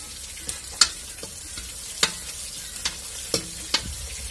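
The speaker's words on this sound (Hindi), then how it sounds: "अब मैं डाल दूंगी इसमें सोयाबीन। इसे भी इन्हें भी मैं फ्राई कर लूंगी।" Soybeans frying in a pan with already sautéed garlic and onion for kadhi, a quiet steady sizzle broken by a few sharp clicks and knocks of stirring, with no voices.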